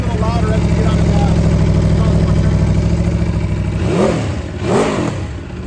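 Ducati Desmo sport motorcycle engine with an open exhaust valve, a steady loud rumbling idle that swells into two quick throttle blips near the end.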